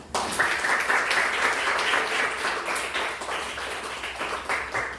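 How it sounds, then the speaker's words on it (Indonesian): A room full of people claps together in sustained applause, dense and lively for several seconds before tapering slightly. "beri tepuk tangan"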